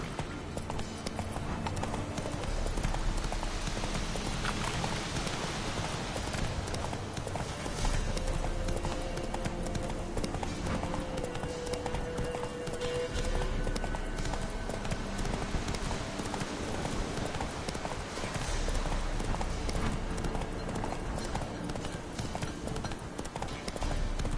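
Horse hooves clip-clopping in The Witcher 3: Wild Hunt, a steady rhythmic trot of hoofbeats throughout, mixed with game ambience and music.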